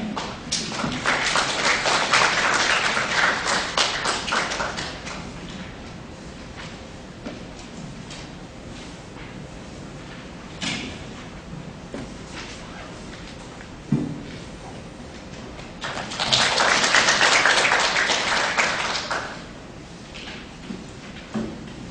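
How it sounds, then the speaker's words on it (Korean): An audience at an architecture and urban forum gives applause to welcome a keynote speaker, with a full burst at the start, a quieter stretch of small knocks and shuffles, then a second swell of clapping. "대빈 여러분께서는 박수로 맞이해 주시기 바랍니다"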